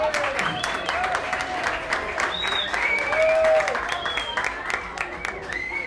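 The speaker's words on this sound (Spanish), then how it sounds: "Un aplauso gigante" A crowd claps steadily in sustained applause, with scattered whistles and shouts rising over the clapping.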